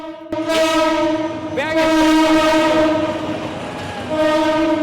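A train rolls through a crowded city market where vendors work beside the track, sounding loud, repeated horn blasts over the rumble and clatter of the wagons, with people talking nearby.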